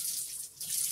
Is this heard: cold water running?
yes